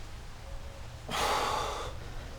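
Heavy, rushed breathing from a golfer recovering right after a hard workout exercise, a single loud, breathy gasp-like exhale close to the mic over steady background noise.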